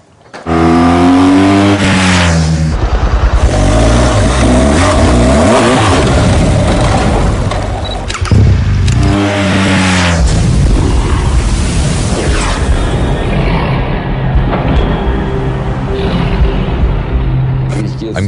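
A 2014 BMW R1200GS motorcycle engine revs hard as the bike pulls away, rising and falling roars close by and loud, then settling into a sustained drone, with voices talking beneath.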